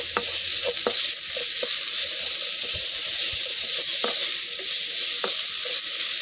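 Minced pork stir-frying in a hot pan for a tapioca-ball filling, with a steady close sizzle and occasional sharp spatula scrapes and taps against the pan.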